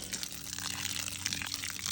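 Water is poured steadily into the reservoir of a plant container in a garden, a continuous splashing gush that runs without pause, close and moderately loud.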